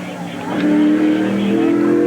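A sportsman race car, number 61, roars at Eugene Speedway, its engine note climbing as it accelerates over an announcer's voice.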